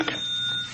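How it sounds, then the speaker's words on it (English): A telephone rings once in an old-time radio crime drama, a short bright electric bell tone that sustains evenly and then fades, with no voices over it. "And then the phone rang."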